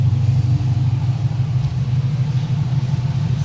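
Acura Integra engine running steadily, a loud, close, continuous low rumble with little change in pitch, no voices.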